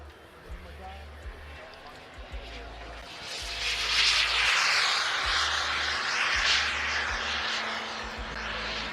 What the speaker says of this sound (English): So we have the Concorde on the runway now,